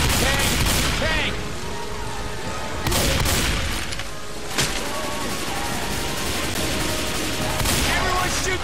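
Players in Left 4 Dead 2 firing at the Tank, a continuous loud barrage of overlapping gunshots with heavy booms and crashes, voices shouting in the mix.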